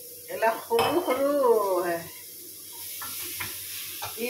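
Small pieces of food fry and are stirred in a pan, with steady sizzling under repeated metal clatter and scraping of a utensil against the pan, close and fairly loud, then quieter with occasional clinks; no one talks.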